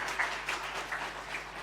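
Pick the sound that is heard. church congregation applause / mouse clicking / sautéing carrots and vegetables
church congregation applause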